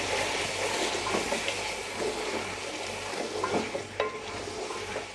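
Spices being stirred into potatoes and fenugreek in a hot pan, with a spoon scraping and turning the mixture over a steady sizzle of frying, close and continuous, with no voices.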